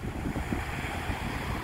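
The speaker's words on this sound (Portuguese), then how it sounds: "olha só, o mar, ele tá subindo" Sea waves surge up against the shore at Olinda, where the rising water has eroded the sidewalks, producing a steady, loud wash mixed with gusty wind noise on the microphone and no talking.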